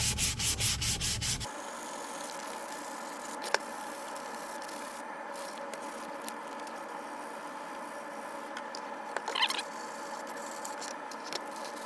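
A plastic Predator biomask is sanded by hand: steady close rubbing and scratching strokes after a short burst of rhythmic scraping at the start, with occasional sharper scuffs and no voices.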